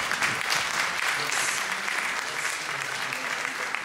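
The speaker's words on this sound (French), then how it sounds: "Et on redouble d'applaudissements pour la distinction" Applause from a seated audience at a philatelic federation congress in Paris, a steady dense wash of many hands clapping, moderately loud and sustained throughout.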